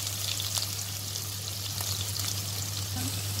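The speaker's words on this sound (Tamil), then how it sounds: "தட்டி வச்சு அதே போட்டு வெங்காயத்திலே நல்லா வதங்கணும் அந்த பூண்டு" Onions with four crushed garlic cloves sauté in a pan for prawn thokku, a soft, even frying hiss over a steady low hum, fairly faint and with no voices.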